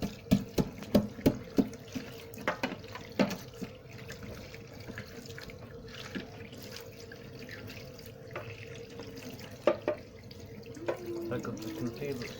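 Tap water runs steadily into a sink while a metal fork is rinsed under it, with brief clinks and splashes early on and a speaking voice faintly underneath.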